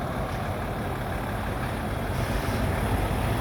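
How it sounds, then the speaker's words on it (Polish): Heavy trucks roll onto a Danube river ferry at Oryahovo, crossing from Bulgaria to Romania, a steady loud diesel rumble filling the air with dense broadband engine noise and no voices. "A tu po prostu tiry wjeżdżają"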